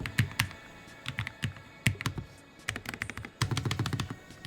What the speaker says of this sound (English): it feels really nice to type on, and that's saying a lot for a low profile keyboard